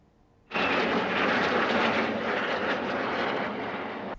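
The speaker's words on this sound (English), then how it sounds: "the sound of World War II planes roared overhead" World War II warplanes roar overhead during a D-Day commemoration ceremony, a sudden loud, sustained broadband engine rush that begins abruptly and holds steady with no voices.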